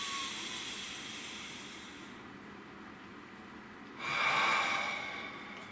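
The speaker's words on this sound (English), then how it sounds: "Nice deep breath." A person draws in a slow, deep breath, a soft airy hiss that swells at the end with a louder exhale, heard close and alone in a quiet room.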